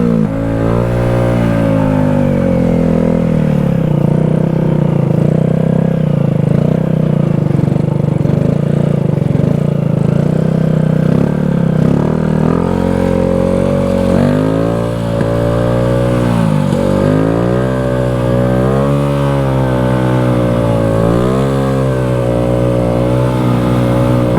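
A Honda Grom motorcycle engine revs hard and close during wheelie practice, its buzzing note climbing and falling repeatedly with the throttle in long, continuous pulls.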